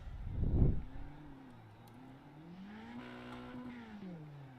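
Race car doing a burnout on the front stretch in the iRacing game, an opening thump then a sustained rising and falling engine roar with tire noise, fairly quiet.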